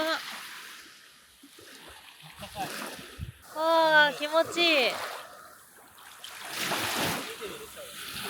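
Water splashes and trickles from an outdoor shower at a beachfront campsite in Baja California, heard close with uneven bursts, while a person speaks briefly over it.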